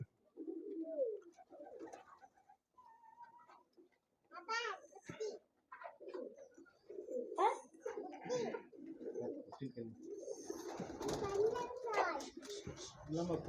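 Pigeons on a natural farm that also keeps Giriraja and Peruvidai chickens, rabbits and ducks coo repeatedly in soft, throaty bursts, close by, while a person talks over them almost throughout.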